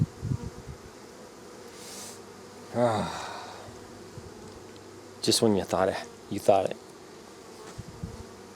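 Honeybees droning around nuc hives during an inspection, a quiet steady buzz beneath someone speaking briefly near the start and a few louder bursts of speech and movement later.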